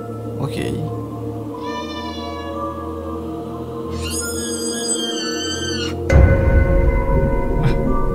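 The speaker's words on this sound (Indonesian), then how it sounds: "Loh, itu suara kucing?" A few drawn-out, eerie meows rise over a droning background, followed by louder noise and faint talking.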